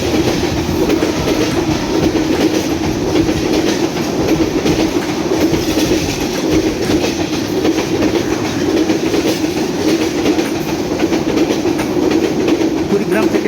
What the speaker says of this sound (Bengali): কুড়িগ্রাম থেকে ছেড়ে আসা ঢাকাগামী 798 down Kurigram express Raninagar rail station 1 নম্বর লাইন দিয়ে থ্রু পাস করে চলে যাচ্ছে ঢাকা অভিমুখে